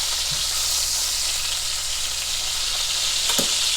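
Pork chops fry in a pan with a steady, loud sizzle and spatter that continues the whole time, with a couple of soft thuds. No one speaks.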